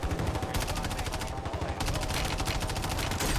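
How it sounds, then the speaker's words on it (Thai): Rapid automatic gunfire from the video game Warzone, loud dense bursts of shots running almost continuously with a brief lull in the middle. "ยิงไม่โดนเลยปืนนี้"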